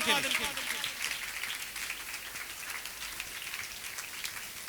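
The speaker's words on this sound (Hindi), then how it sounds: "जोरदार तालियां खुदावंद के खादिम के लिए" A congregation in a church claps loudly and continuously, a thick rain-like wash of applause that holds steady throughout, with a voice briefly heard at the very beginning.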